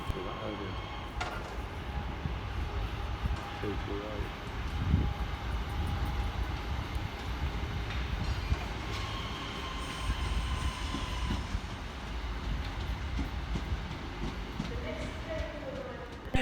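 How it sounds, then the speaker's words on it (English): Northern electric unit 323208 pulls out from the far-side platform at Stockport railway station, a continuous rumbling roll with occasional wheel squeals and clicks, faint voices around. "Departing over on the far side will be 323208 with the 1626 Northern service from Crewe through to Manchester Piccadilly, departing 6 minutes late."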